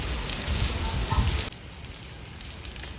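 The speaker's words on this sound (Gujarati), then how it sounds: "બાકી જો વરસાદ ચાલુ થઈ ગયો ફૂલ" Heavy monsoon rain pours down in rural Mehsana, Gujarat, with water pooling everywhere; a dense, steady hiss of downpour is loud at first and then drops to a softer, continuous patter after about halfway.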